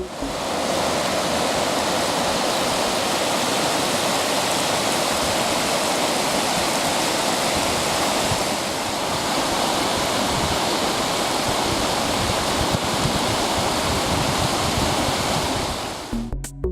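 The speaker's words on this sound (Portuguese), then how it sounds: "Essa água começa a escorrer sobre o solo e se junta com águas de outras nascentes." Water from springs runs over the ground in a constant loud rushing wash, close and unbroken, ending abruptly.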